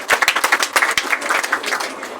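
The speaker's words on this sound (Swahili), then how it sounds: "Nikupigia Kristo Yesu makofi mazuri." A church congregation applauding during a sermon, a short burst of close, loud clapping from many hands that tapers off after about two seconds.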